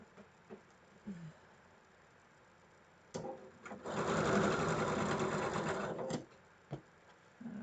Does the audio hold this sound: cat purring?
no